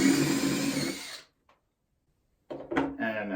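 A DeWALT 20V cordless drill whirs loudly as it drills a hole, stops abruptly into a second of silence, then spins up again with uneven bursts.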